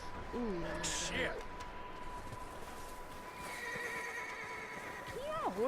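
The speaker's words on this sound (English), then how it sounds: "Can y'all horses shut up?" Horses in the video game Red Dead Redemption 2 neigh and whinny repeatedly, several calls spread across the clip over a steady background of hoof clip-clop and ambient game noise.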